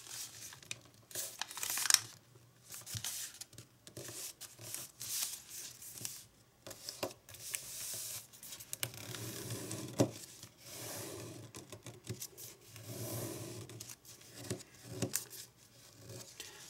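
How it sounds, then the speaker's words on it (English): Origami paper is folded flap by flap along its creases into a pleated fan, giving soft, intermittent crinkles, rustles and crisp creasing snaps close by, with quiet pauses between the folds. "And let's fold this flap down on the crease. And fold this edge to here."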